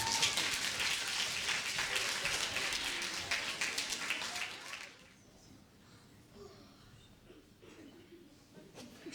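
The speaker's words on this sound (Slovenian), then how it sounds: "Aplavz!" Audience applause before a children's puppet show at a school creativity day: dense clapping for about five seconds, then it stops abruptly, leaving a quiet room with faint murmurs and scattered small noises.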